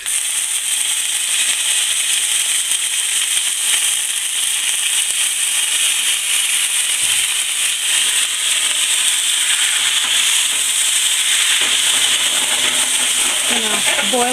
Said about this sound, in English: I'm going to add the last ingredient, which is the vinegar. So this is going to make a puff of smoke.